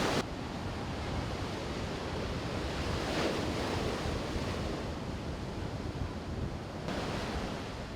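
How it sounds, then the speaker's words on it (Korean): Rough ocean waves crash at sea, with heavy continuous surf and rushing water close by, mixed with strong wind buffeting the microphone throughout. "파도가 금방이라도 덮칠 것 같았는데요"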